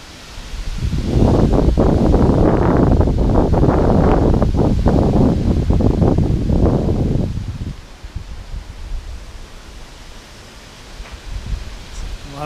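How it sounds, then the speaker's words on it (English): Strong wind gusts during Hurricane Ian roar loudly against the microphone for several seconds, then ease into a quieter steady rush. "A lot of gust."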